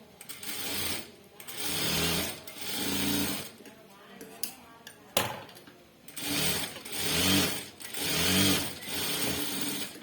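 A sewing machine stitching a blouse runs in steady bursts of rapid mechanical whirring, nearby, stopping and restarting several times with short pauses between runs.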